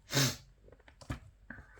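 A single loud, close sneeze bursts out at once, followed by a few quieter breaths and sniffs.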